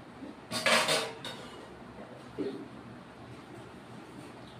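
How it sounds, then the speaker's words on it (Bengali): A lid is set onto a cooking pan of papaya curry with a short metallic clatter, then a softer knock follows, both close, over a quiet background. "এখন বন্ধুরা ঢেকে দেব।"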